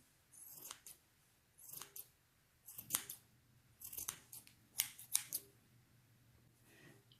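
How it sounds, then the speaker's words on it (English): Scissors snip repeatedly at a yarn pom pom in separate crisp cuts, several quick snips grouped close together with short pauses between, close and clear in a quiet room. "you're just trimming away, trimming away, trimming away. And you just trim and trim and trim."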